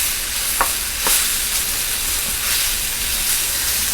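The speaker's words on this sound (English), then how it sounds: "I just stir it around and around until it looks like it's browned good." Venison browns in a pan as it is stirred around, a loud close sizzle with a few sharp scraping strokes of the utensil near the start.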